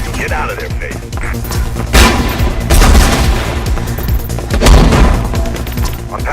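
Gunshots in the video game Mirror's Edge: loud, bursty volleys of gunfire with heavy booms, rising in two strong waves over a dense, noisy action background.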